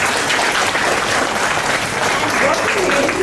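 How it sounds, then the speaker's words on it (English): A room of workshop attendees claps for a participant in a short, steady burst, with voices audible under the clapping. "Let's give him a clap."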